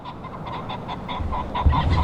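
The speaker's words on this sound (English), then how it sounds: "there's a rooster pheasants right there." A rooster pheasant calls from open hunting ground, its harsh honking crow repeating in short bursts over steady outdoor background noise, moderately loud and growing louder toward the end.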